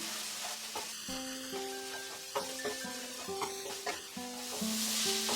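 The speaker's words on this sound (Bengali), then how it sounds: "এবারে এটাকে নাড়তে নাড়তে আমি আরো 2 মিনিট রান্না করে নিচ্ছি। ফ্লেমটা কিন্তু মিডিয়াম টু হাই রেখেছি।" Boiled noodles are stir-fried in a pan over a medium-high flame, making a soft, continuous sizzle with light stirring scrapes beneath steady tonal background music.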